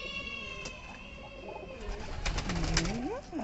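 Pigeons cooing as they enter a farm coop in the evening, several soft throaty coos and rising calls close by with light rustling.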